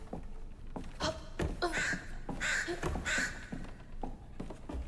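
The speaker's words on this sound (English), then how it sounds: "Frickin' crows, shut the frick up." Crows caw in the video game South of Midnight, several harsh, fairly loud calls in a ragged series over a steady ambient game background, with no talking.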